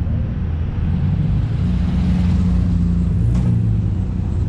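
A Jaguar E-Type drives past at Castle Combe Circuit, a low engine rumble that holds steady and swells slightly as the car goes by, moderately close with no talk.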